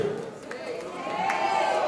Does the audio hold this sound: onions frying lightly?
no